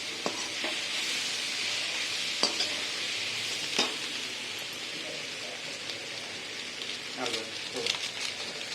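Pasta with masala stirred and cooked in oil in a pan, a steady close sizzle with occasional scraping clicks of the spoon scattered through, fairly quiet.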